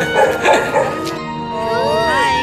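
A dog at 3 a.m. gives a few short yips and barks close by, followed by a whimpering, wavering howl-like whine.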